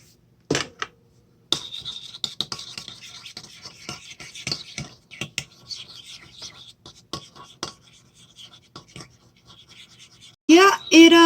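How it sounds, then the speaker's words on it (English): A spoon stirs a teaspoon of yeast into warm water, making close, uneven scraping and rubbing strokes that come in short bursts with brief pauses. "And then you're going to stir it for about 5 minutes."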